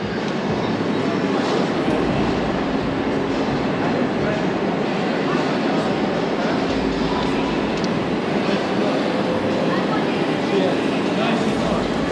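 A steady, loud rumble of a London Underground train running through a tunnel near London Bridge, continuous roar with faint rattling throughout.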